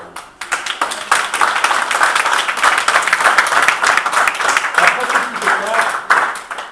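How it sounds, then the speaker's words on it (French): An audience at a metal-detecting club's annual dinner gives loud applause for the volunteer helpers. Many sharp individual claps build into a vigorous, uneven ovation that stays strong for several seconds and then tapers off. "je voudrais qu'on les applaudisse bien fort"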